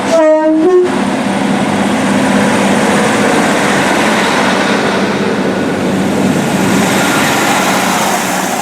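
A train horn blasts briefly at the start, then a loud, steady roar of a train passing close by through a station on the East Midlands network in England continues throughout.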